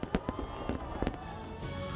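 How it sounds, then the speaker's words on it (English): New Year fireworks in China crack and pop in a handful of sharp bursts over a rumbling crowd-like background, the reports uneven and moderately distant. "There were some impressive fireworks in China too"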